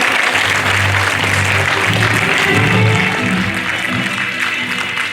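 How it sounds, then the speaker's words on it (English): A big, loud round of applause fills the hall at a graduation ceremony, a thick, even roar of many hands clapping that holds for the full stretch, with a faint low hum beneath. "Let us have a big round of applause,"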